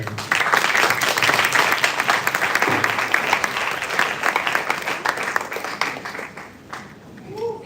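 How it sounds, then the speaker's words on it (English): An audience at a youth summit applauds, a dense, loud spread of clapping held for several seconds before thinning and tapering off near the end. "Another applause."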